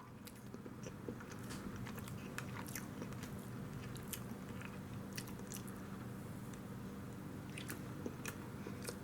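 Close, quiet bites and chewing of sugar-free sponge cake, soft squishy mouth sounds with occasional crisp clicks, steady throughout with no talking.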